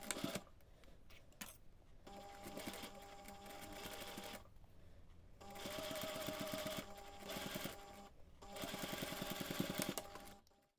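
A sewing machine stitches the seam of a fabric heart-shaped coaster, running in several steady, rapid bursts separated by short pauses, close and fairly loud with no talking.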